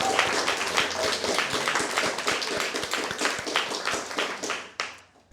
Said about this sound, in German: für die Leistung schon mal einen kleinen Applaus